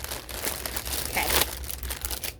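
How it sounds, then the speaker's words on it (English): Plastic packaging on a pin banner crinkles as it is unwrapped, a continuous close-up rustle with a brief louder crunch partway through, no talking. "I'll shut up while I unwrap this and the crinkling stops"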